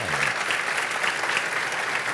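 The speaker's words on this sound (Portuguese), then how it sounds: "vamos dar uma salva de palmas para Jesus." A church congregation bursts into applause during a worship service, a dense, steady wash of many hands clapping together throughout, loud and close, with no talking over it.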